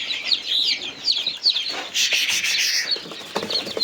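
Newly hatched baby chicks, some still weak, peep in a warm brooder: a steady stream of thin, high chirps over soft rustling and rubbing, close by.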